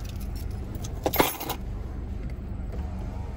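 Car keys jangle briefly in a quiet auto repair shop while a 2020 Honda Accord is serviced, a short metallic rattle up close over a low steady background hum.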